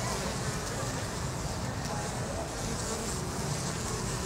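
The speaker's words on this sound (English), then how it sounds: "You can just see them clean and then just take off in like a buzz of the wings." Bees gather at a hive entrance and lift off on beating wings, making a dense, continuous buzzing drone that stays close and even throughout.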